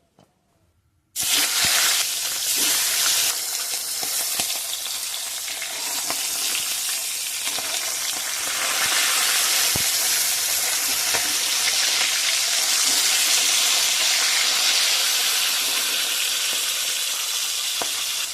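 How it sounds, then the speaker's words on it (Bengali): Fish heads fry in hot mustard oil, hissing and sizzling steadily after a sudden start. The frying stays loud and continuous, with occasional pops and stirring scrapes and no voices. "তেল গরম হয়ে গেছে, দিয়ে দেবো মাছের মুড়ো"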